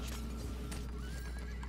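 A horse in the video game Paladins gives a short whinny with hooves clip-clopping, heard over steady game background noise.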